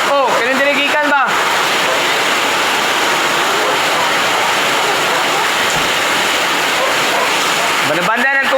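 Floodwater pours loudly through a flooded kitchen as a continuous heavy rushing wash, with a person speaking briefly at the start and again at the end.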